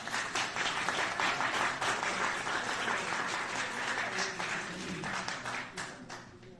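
An audience at a talk on the local speech of Bulzi and Sedini applauds steadily, dense overlapping clapping from a sizeable crowd that holds at full strength and only starts to thin at the very end.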